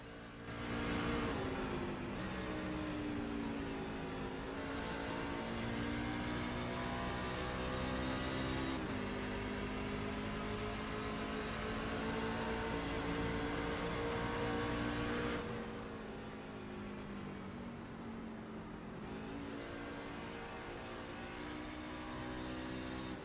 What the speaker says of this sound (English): I've never seen downshifting at Phoenix before